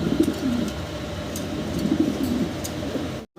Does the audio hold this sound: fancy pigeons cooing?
yes